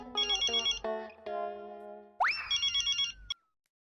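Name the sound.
telephone ringing while calling a friend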